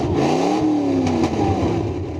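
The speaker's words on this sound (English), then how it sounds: "I'm revving the crud out of it" A straight-piped truck with open headers revs hard and very loud at close range, the engine note climbing and falling through a couple of quick revs.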